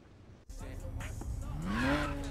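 Eddie's race car in the video game Need for Speed Payback starts off in near quiet, then its engine revs up in a rising, climbing whine, mixed with tire squeal and skidding, growing louder toward the end.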